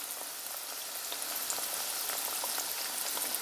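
Flour-coated zucchini frying in a pan, giving a steady, dense crackling sizzle throughout, close and even with no pauses.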